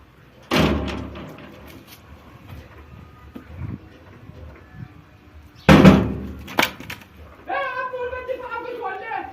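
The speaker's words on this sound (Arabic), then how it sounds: "اشوف اللي بيكسر الباب بره دي اهو" A door is banged and slammed hard: a loud slam near the start, another heavy crash with a quick follow-up knock later, and a voice speaking in between and at the end.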